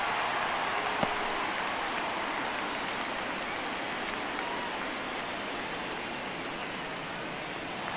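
A baseball stadium crowd in the video game MLB The Show 24 applauding steadily during a one-run ninth inning, a dense, even wash of clapping and cheering that holds throughout without a break.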